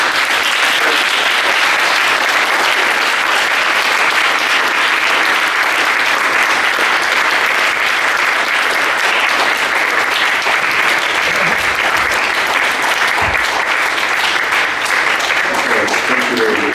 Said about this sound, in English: I hope you'll join me in applauding.